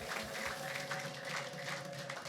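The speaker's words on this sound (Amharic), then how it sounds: "በደም አጨብጭቡ ለጌታ።" A church congregation claps together during an Ethiopian worship service, a dense, steady wash of applause with crowd noise that stays loud throughout.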